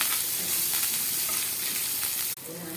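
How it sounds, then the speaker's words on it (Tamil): Curry leaves fry in a pan with a steady, dense sizzle and crackle close up. The sizzle dips abruptly near the end, then resumes. "அப்புறமா கொஞ்சம் கருவேப்பிலை போட்டு இது நல்லா வறுத்துக்கணும்."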